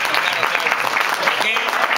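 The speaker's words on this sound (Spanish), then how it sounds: "vamos a darles un aplauso" A festival audience at a Valencian falla casal claps for the fallera mayor, a short burst of steady, fairly loud applause.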